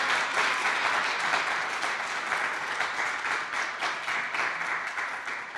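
Steady, full applause from a large audience at a live poetry recitation competition, continuous dense clapping throughout with slight swells and a gradual easing toward the end.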